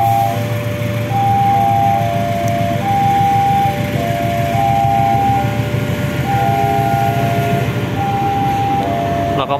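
A cement freight train at Yogyakarta station sits amid loud station ambience, with a repeating chime-like melody playing over a steady low rumble throughout.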